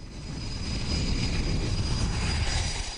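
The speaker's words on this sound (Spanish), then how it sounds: "A la hora de hacer despegar aviones, no hay en el mundo ninguna cubierta tan rápida como la del Grane" A jet aircraft roars loudly and steadily as it launches from the flight deck of the aircraft carrier USS Enterprise. The engine noise is continuous and close, with no voices.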